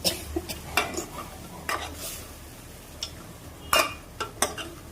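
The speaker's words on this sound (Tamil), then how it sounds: "இந்த கறியை மட்டும் நம்ம வறுக்க போகிறோம்" Mutton pieces sizzle and fry in a pan for a Salem-style mutton fry, with a steady hiss under sharp scrapes and clinks of a ladle stirring at irregular intervals, close and clear.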